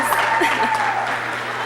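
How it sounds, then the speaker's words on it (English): Brief burst of audience clapping at a high school class day ceremony, fairly loud and close, with some voices mixed in. "So let's give this guy a round of applause for being hilarious."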